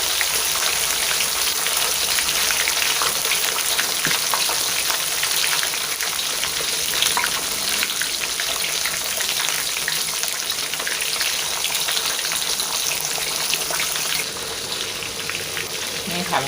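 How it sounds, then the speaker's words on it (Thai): Fish sizzles steadily in hot oil in a home kitchen, a dense continuous crackle and hiss that runs close and loud from start to finish with no break. "เพื่อนปลาเรากำลังทอดอยู่นะคะ"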